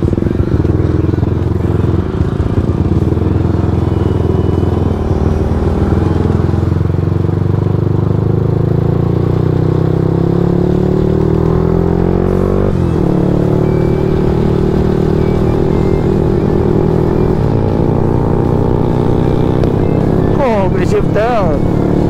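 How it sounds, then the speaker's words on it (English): Small Malaysian motorcycle fitted with an LCV1 65/4 setup, riding at speed with a steady loud engine drone, harmonic pitch rising and falling as the throttle shifts, with wind roar and riders talking over it. "Dia bawa motor saya boleh dapat speed."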